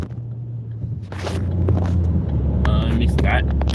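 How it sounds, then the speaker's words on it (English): A big truck passing on a motorway, heard from inside a moving car as a deep rumble that swells and stays loud under the steady drone of the car's engine. "Big truck here."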